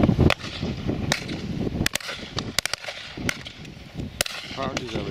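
Shotguns fire at a partridge shoot: a fast string of sharp, loud cracks comes from near and farther off, some in quick doubles, with outdoor rustle and scattered voices in between.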